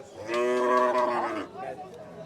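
A cow at Chandina cattle market in Cumilla lets out one long, loud moo, with faint crowd chatter in the background afterward.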